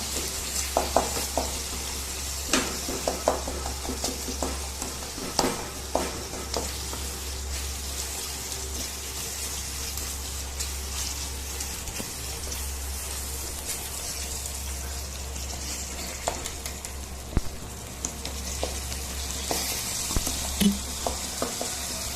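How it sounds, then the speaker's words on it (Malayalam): Tomatoes are stirred and mashed in a hot pan for South Indian tomato rice, giving a soft continuous sizzle with scattered scraping and tapping sounds from the spoon throughout. "അപ്പോൾ ഒന്നും കൂടെ ഇളക്കി കൊടുക്കുക. തക്കാളിയൊക്കെ നന്നായി ഉടയണം."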